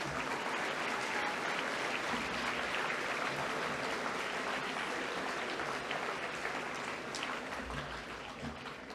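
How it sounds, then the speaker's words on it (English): Sustained, dense applause from a school assembly crowd greeting the college swim team, steady and loud for the full stretch with a slight fade near the end. "Please applaud our swimming representatives."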